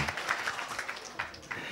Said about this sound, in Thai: ขอเสียงปรบมือและขอบคุณพาร์ทเนอร์เราด้วยครับ